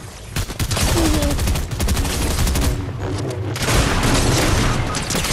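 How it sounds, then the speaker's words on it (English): An enemy turret in a video game fires a dense, loud burst of rapid gunshots that runs almost continuously, with booming impacts layered over it and no speech. "Turret, watch out. I hear their turret."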